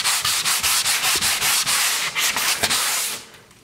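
Sandpaper strokes rub back and forth over primed wall paint, about a dozen steady, close, scratchy passes in an even rhythm before the sanding stops.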